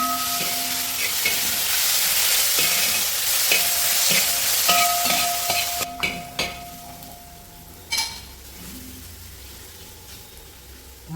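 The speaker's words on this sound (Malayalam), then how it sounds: "ഇതിനകത്തോട്ട് ഇഞ്ചി വെളുത്തുള്ളി അരച്ച് വെച്ച പേസ്റ്റ് ഞാൻ ചേർത്ത് കൊടുക്കാൻ പോവാണേ" Ginger-garlic paste stirred and fried in a pan for kappa biryani, a loud, close, bright sizzle for several seconds, then quieter frying with occasional scraping strokes of the spoon against the pan.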